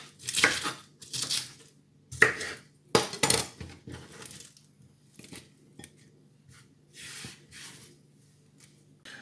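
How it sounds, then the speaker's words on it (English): A knife chops a piece of lettuce on a cutting board for a chicken salad, giving a series of crisp, close crunching cuts that come in uneven strokes and fade toward softer slices at the end. "Next, we've got lettuce. So, take off a nice piece. And chop that as well."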